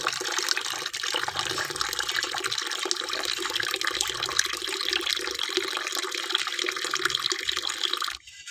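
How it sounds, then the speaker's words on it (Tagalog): Water poured into bowls for pet dogs and cats splashes and gushes steadily for several seconds at close range, then cuts off near the end, with no talking. "lalagyan din natin sila ng tubig"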